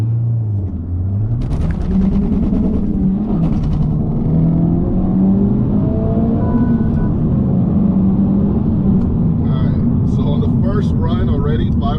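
A Honda Civic Type R FL5 launching from 0 to 60 in cold conditions, its engine rumbling loudly and climbing through the revs while the wheels slip and spin, with brief high squeal-like bursts near the start and at the end.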